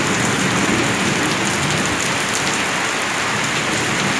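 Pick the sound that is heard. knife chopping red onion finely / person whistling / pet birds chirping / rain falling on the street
rain falling on the street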